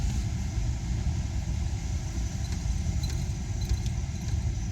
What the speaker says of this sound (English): I can hear it. It's like still rattling.